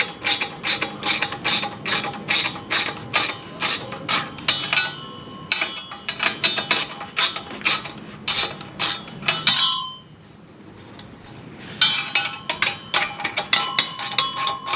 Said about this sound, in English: Now we're just going to temporarily use a regular nut to hold it in place.